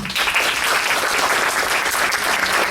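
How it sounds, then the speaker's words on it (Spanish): Audience applause at an architecture lecture in a university hall, a sustained, even roar of many people clapping together, fairly close and continuous from start to finish with no talk over it. "Un aplauso para él, por favor."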